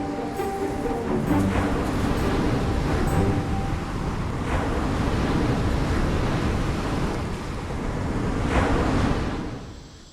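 Warm Caribbean Sea waves wash onto a beach at dawn, a continuous rushing surf with swells rising and falling, mixed with wind noise and heard close and moderately loud.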